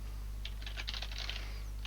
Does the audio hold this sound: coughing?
no